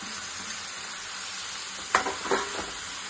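Leafy greens (soppu) fry in a pan with a steady, close sizzle, interrupted by a couple of brief scraping stirs near the end.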